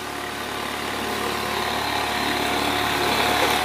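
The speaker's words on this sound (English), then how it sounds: "Classic two-stroke." A two-stroke engine idles steadily while running rich at sea near an abandoned oil rig, a close, continuous buzzing drone that holds even throughout.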